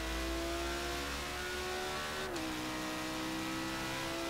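A car engine in Forza Horizon 3 revs steadily and loudly through a gear change, its pitch dipping briefly mid-run before climbing again, heard alone with no voices.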